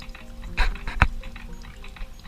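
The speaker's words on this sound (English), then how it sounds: "It's making water. But it thinks it's making coffee." A Keurig 2.0 K200 brewer runs an empty brew cycle, pushing plain water through into the cup with a soft pouring trickle and a couple of brief louder gurgling bursts.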